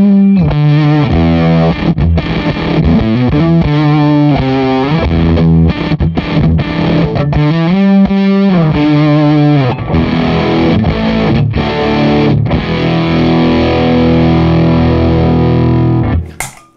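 A Les Paul electric guitar runs through a handwired Band of Gypsys Fuzz Face pedal, giving a thick, saturated fuzz tone. Dense riffs and sustained notes play loud and continuous, then cut off abruptly at the end.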